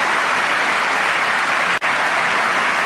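Steady, dense applause from a large audience, loud and continuous for the whole stretch, with only a momentary dropout near the end and no voices over it.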